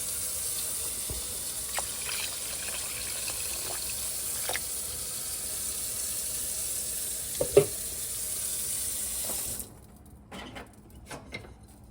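Water poured from a tap or container into a soup pot, a steady close splashing hiss lasting about ten seconds with a few clinks, then cutting off to quieter handling noises.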